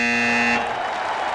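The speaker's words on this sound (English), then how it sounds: "Buzzer sounds on that whiffed shot there from half court." A basketball buzzer in the Hoop Land video game sounds at the end of a half: a loud, flat, harsh tone held for about half a second, then cut off into crowd noise.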